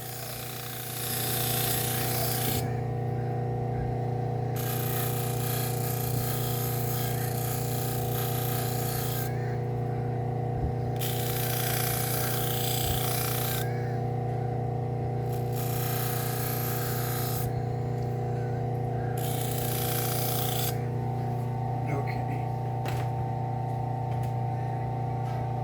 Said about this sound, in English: Let's try a little more on the leather wheel.